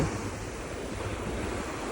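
Sea waves wash steadily onto a sunny beach, a constant broad roar of surf mixed with wind buffeting the microphone, with no voices.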